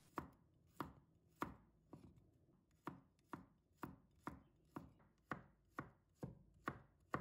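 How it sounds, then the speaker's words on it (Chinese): A knife slicing garlic on a cutting board, about a dozen crisp, evenly spaced chops close up with no talking. "再准备1把大蒜， 把它切成片"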